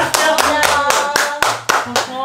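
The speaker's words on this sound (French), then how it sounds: "on peut s'applaudir" A small group claps for themselves after a first-edition clothing sale event, about eight sharp, evenly spaced claps close to the microphone, with some voices mixed in.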